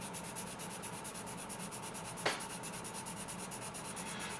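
Hard charcoal pencil scratching across paper in a steady, continuous rough rubbing, close and fairly quiet, with one brief sharper scrape midway.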